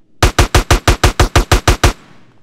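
Rapid burst of about ten automatic gunshots in a video game shootout in GTA San Andreas, evenly spaced and loud, ending abruptly with a short fading tail.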